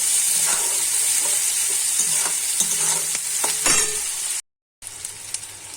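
Loud, continuous sizzle of onions frying in a pan for jackfruit-prawn curry, broken by stirring scrapes and a brief gap of silence near the end.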